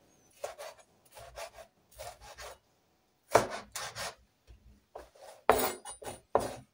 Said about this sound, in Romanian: o să-mi tau toate legumele